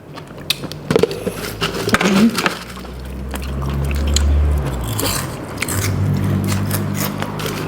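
Crunchy giant cockles with a sweet, spicy dipping sauce are bitten and chewed up close, giving sharp crisp cracks followed by wet, steady mastication.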